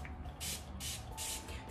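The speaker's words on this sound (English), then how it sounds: "this might be one that you can get away with spraying directly onto your hair" A watery leave-in curly hair styler is sprayed from a pump bottle onto hair in three quick, close bursts, each a short bright hiss separated by brief pauses.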